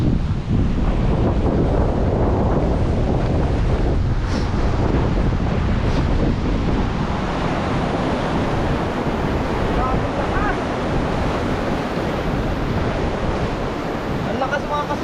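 Strong sea waves pounding during Typhoon Kristine, with a constant roar of surf and heavy wind buffeting the microphone for the whole stretch, loud and close, with no talk over it.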